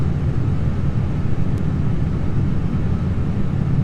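A Boeing 777X jet airliner takes off, heard as a steady, loud low roar of engines and airflow throughout, with no distinct events.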